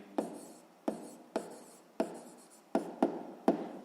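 A pen writes on paper in a quiet room during a sixth-grade maths exercise, making about seven short, scratchy strokes in an uneven rhythm, close and soft.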